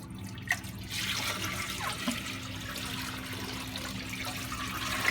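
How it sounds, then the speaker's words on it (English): A toilet flushes with aquarium water, a steady rushing, gurgling wash of water over a low hum, with a couple of small clicks near the start. "Once you put it in there, the toilet flushes."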